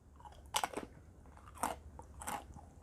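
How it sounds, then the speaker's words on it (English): Crunchy keto pretzel sticks made with almond flour are bitten and chewed up close, with three distinct crisp crunches spaced about a second apart over a quiet background. "They're crunchy, a little salty."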